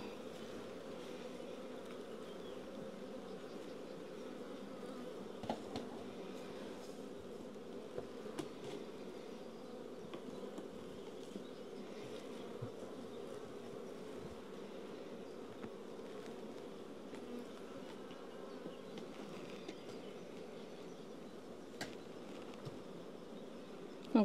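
A honeybee colony buzzes steadily and agitated while a hive is opened and its frames inspected for queen cells, a dense continuous hum close by with no voices over it.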